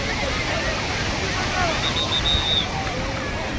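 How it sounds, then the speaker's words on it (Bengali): Large sea waves breaking at Puri beach, a continuous loud wash of surf with crowd babble and distant voices mixed in, steady for a few seconds. "বিশাল আকারে ঢেউ।"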